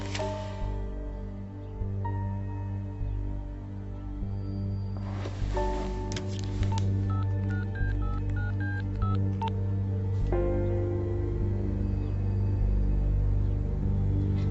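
Telephone keypad tones beep as a number is dialed, a quick run of short, distinct touch-tone notes in the middle over a steady low background hum, with no voices.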